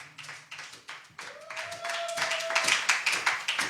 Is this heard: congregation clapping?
yes